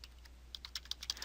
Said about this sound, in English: After clicking on that link, I can then just type the name of the category.